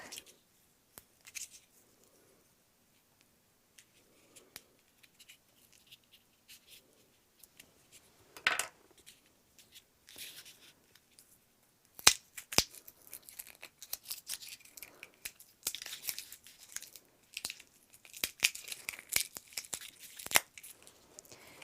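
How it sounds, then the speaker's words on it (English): Paper cup of frozen ice being cut in half, sparse crinkles and scrapes at first, then a dense run of sharp cracking, tearing and crunching cuts in the second half, close and without talking. "take your cup of frozen ice and cut it off about halfway up."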